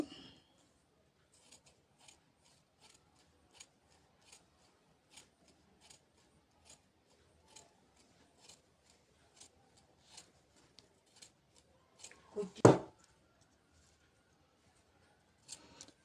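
Scissors trimming excess thread ends on double-stitched dori cord, giving a steady series of faint, evenly spaced snips followed by a louder cluster of cuts near the end, with no talking.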